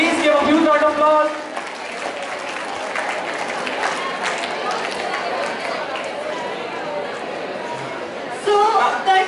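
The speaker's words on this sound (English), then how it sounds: "Please give a huge round of applause." Crowd applause at a school Teachers' Day celebration for a winning team, a continuous rush of clapping and cheering that briefly drops away before a voice speaks over it at the start and end.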